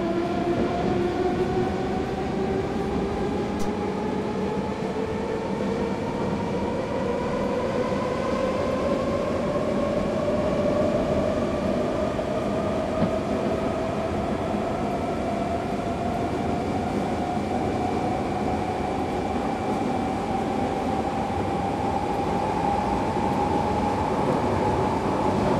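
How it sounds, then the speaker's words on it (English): A BR 420 electric multiple unit in Train Simulator 2015 runs at speed near Munich, a loud continuous rolling rumble with rising motor whine, steady throughout with no voices. "As we now reach 120 kilometers per hour, I'm pulling the power back to idle just to allow the train to coast."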